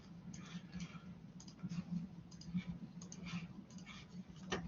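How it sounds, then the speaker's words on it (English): A computer mouse clicks repeatedly in quick, irregular bursts, faint and close, over a low steady hum with no voices. "Let me click back over."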